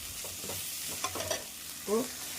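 Poppy seeds and spices fry in a pan with a soft, steady sizzle, stirred now and then with a few scraping clicks, at moderate level and close by, with no talk.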